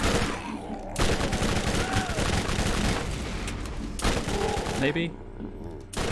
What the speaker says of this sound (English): It's an SMG, like its range isn't that great.